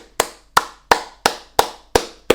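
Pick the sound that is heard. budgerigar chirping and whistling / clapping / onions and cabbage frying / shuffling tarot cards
clapping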